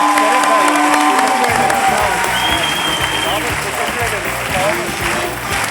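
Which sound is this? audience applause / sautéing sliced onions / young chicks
audience applause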